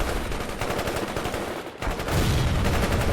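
Dense, continuous automatic rifle and machine gun fire from the video game World in Conflict, AK bursts blending into rapid rattling shots, loud and close, with a brief dip before the firing resumes even harder.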